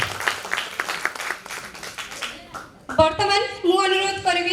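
Audience at an annual day celebration event bursts into clapping for about three seconds, then a loud tonal musical passage takes over, with a speaker's voice heard near the start.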